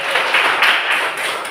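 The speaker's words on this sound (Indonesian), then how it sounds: "Tepuk tangan buat Rizky." A class claps for a student who has just finished a presentation, a short burst of close, brisk handclaps with no talk.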